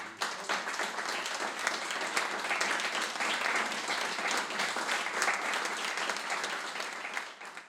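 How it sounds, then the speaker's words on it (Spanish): Warm audience applause fills a lecture hall, starting abruptly and holding as a steady, dense patter of many hands before tapering off at the end. "les pido que la recibamos con un caluroso aplauso"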